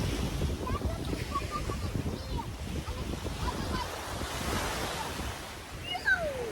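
Ocean waves wash and break at a sandy beach in a continuous soft surf rush with wind buffeting the microphone, heard up close and moderately loud throughout.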